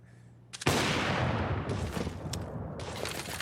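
A burst of rapid gunfire in Counter-Strike: Global Offensive on the Mirage map during a competitive match, loud and sharp, breaking in abruptly after a quiet moment and rattling on with dense repeated shots.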